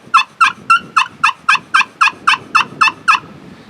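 Cedar turkey call worked to imitate a hen, giving twelve evenly spaced, clear yelping notes about a quarter second apart, close and loud over light wind rumble.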